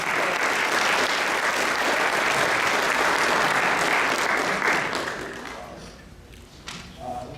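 Steady audience applause at a municipal inauguration ceremony for a judge of probate, loud and dense for about five seconds before thinning out and tapering into scattered claps.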